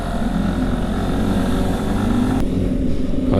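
A Honda CB 190 motorcycle revs and pulls away in second gear, its engine droning close and steady, with a brief drop in the high end partway through.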